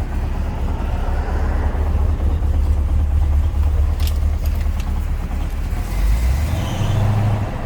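A 1978 Chevrolet Suburban Custom Deluxe engine turns over and settles into a loud, deep, rumbling idle close by, with a few sharp clicks partway through and the low tone shifting near the end.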